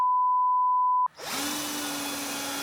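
A Parkside vacuum cleaner starts up in a garage during a car engine teardown, kicking in after a steady electronic beep and then roaring continuously with a loud broadband rush and a constant motor tone, close by.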